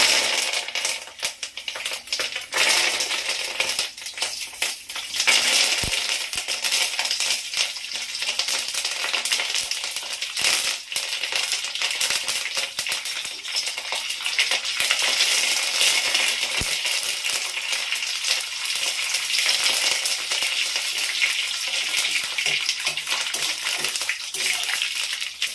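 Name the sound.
mustard seeds and curry leaves crackling in hot oil tempering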